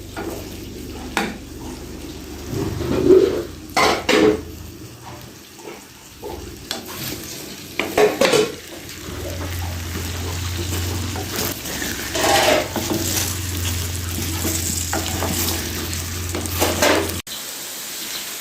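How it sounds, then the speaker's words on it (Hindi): Okra frying in a pan as masala bhindi, with a steady close sizzle and repeated scraping and clanking of a spatula stirring against the metal pan, heard alone and without talk. "ये भिंडी हमारी तकरीबन फ्राई हो चुकी है।"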